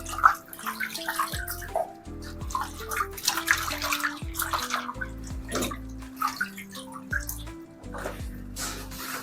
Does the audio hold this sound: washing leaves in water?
yes